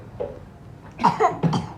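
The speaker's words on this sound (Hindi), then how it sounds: "इनको भी खांसी हो रही है" A child gives a short burst of two or three quick coughs, close by, after a brief quiet moment.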